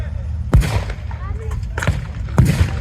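Three sharp, heavy booms of artillery fire at TankFest, roughly evenly spaced, with a low, rumbling background between the shots.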